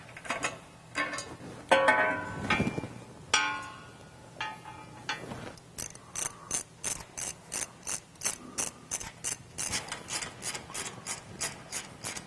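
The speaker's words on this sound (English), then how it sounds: "We'll go ahead and do that now using an 18mm socket." A ratchet fitted with an 18mm socket clicks steadily as cross member bolts come off a Jeep JL 3.6L 4-door, starting with a few scattered clunks and rubs, then settling into rapid rhythmic pawl clicks, close and clear.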